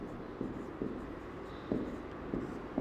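Writing strokes during a chemistry lecture on atomic structure, a quiet room with soft, evenly spaced scratchy taps every half second or so, no speech.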